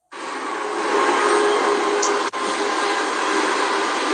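A train rolls past close by, a loud, steady rumble with rattling wheels that holds for several seconds, briefly dipping for an instant midway before continuing.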